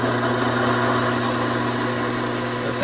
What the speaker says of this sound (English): I need to speed up the lathe a little bit probably